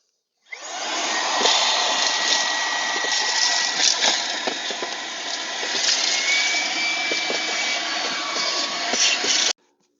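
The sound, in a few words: vacuuming up wood residue from rotted door frame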